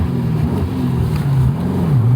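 An old Daimler Dart's engine revs as the throttle is blipped during a gear change, a steady, close, rising and falling hum that fills the short moment without any talk.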